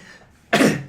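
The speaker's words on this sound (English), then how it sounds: "that was like a cough." A single abrupt cough bursts out close by after a quiet moment, harsh and breathy, trailing off over half a second.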